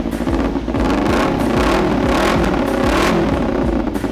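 A 2013 Kawasaki Z250 motorcycle with a 250 cc two-cylinder engine revs loudly and close by, a continuous throbbing engine note that swells and eases.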